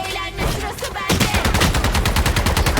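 Rapid automatic gunfire in Valorant, a loud, close string of evenly spaced shots that follows a short burst of game noise.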